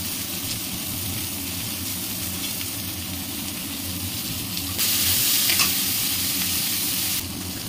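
Onions, tomatoes and chopped green chillies fry in a pan with a loud, dense, continuous sizzle and stirring scrape, and the hiss briefly swells brighter in the middle before settling back.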